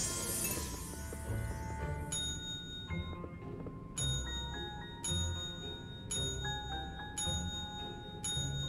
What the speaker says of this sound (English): This must be a bell on the desk table.